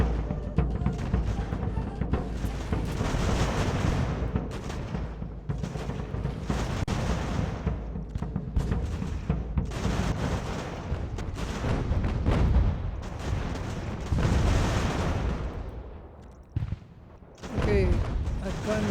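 Artillery fires in the video game Ultimate General American Revolution during the Stamford battle: heavy, repeated booms and crackling volleys roll on almost continuously, loud and dense, with a brief lull near the end.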